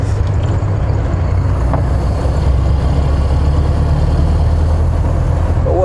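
A restored 1929 Ford Model A engine runs with a steady, low rumble that stays close and even throughout, with a faint squeak or two now and then and no talking.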